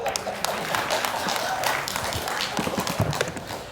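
Applause from an audience at a farewell concert event for a lawyer, dense patter of many hands clapping steadily throughout at moderate distance, with a faint voice underneath.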